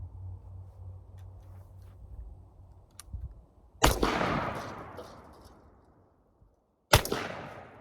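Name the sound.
12 gauge double barrel shotgun firing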